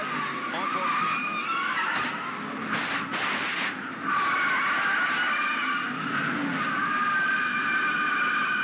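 Onboard audio from a 1997 NASCAR race car caught in a violent wreck after side contact, with loud continuous engine roar, tire skidding and scraping, and abrupt crash bursts near the start and middle, all sustained at high level.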